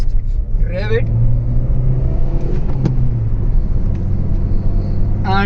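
A 2010 Maruti Suzuki Swift ZXi petrol engine rumbles and revs steadily on an empty road, a low continuous drone heard from inside the car with brief chirps over it.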